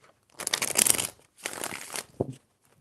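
Tarot cards are shuffled by hand in two brisk, papery bursts close to the mic, separated by a short pause, with no talking.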